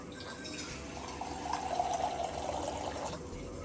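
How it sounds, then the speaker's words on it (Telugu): Water runs steadily from a newly installed home water purifier tap, a continuous close trickle and splash that swells in the middle and tapers off toward the end. "First time purifier water."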